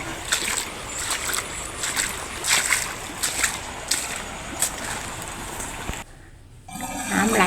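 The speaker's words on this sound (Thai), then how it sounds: "น้ำไหลแรงมากเลยค่ะ" Strong floodwater rushes over a flooded rice field and its embankments after a night storm, a steady loud outdoor wash of water with splashy bursts, then a brief quieter gap before the flow swells again.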